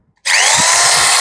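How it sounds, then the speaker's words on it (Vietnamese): A Makita 13 mm corded electric drill starts up after a brief silence and runs steadily at full speed, loud and close, with a bright whining motor tone and no talking. "Khoan điện đầu 13 ly."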